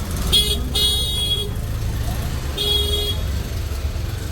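Vehicle horns honk on a narrow one-lane road near Rishikesh, two or three short bursts rising over steady engine and traffic rumble, close by.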